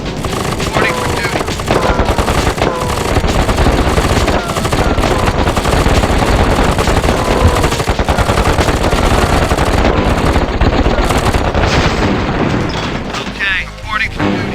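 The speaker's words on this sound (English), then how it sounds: "So this guy's a sprayer type of weapon." Sprayer-type anti-infantry weapon firing in KKND, rapid sustained machine-gun bursts with thumps and booms throughout a busy battle, loud and continuous, with brief unit voice lines over it.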